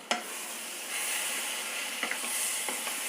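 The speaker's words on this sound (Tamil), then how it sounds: "முருங்கைக்காவும் அந்த எண்ணெயிலே வதக்கி விடுவோம்." Drumstick pieces sautéing in hot oil give off a steady close sizzle and hiss. A few soft clicks of stirring mark the frying, and no one speaks.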